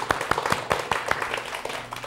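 A church congregation claps in thanks during a Thanksgiving Sunday service, a steady run of sharp hand claps from many people.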